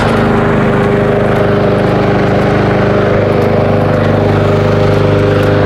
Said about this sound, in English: sorry about the lawnmower noises